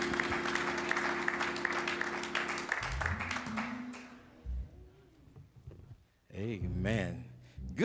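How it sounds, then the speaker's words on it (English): Church congregation clapping hands in praise during a morning worship service, brisk applause with music for the first few seconds, then fading out as a voice speaks. "Let's give God another hand clap of praise for them."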